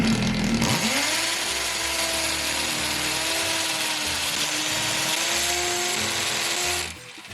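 An electric drill bores holes into a wall to hang a table, whirring steadily at high speed for several seconds, close and loud, then winding down at the end.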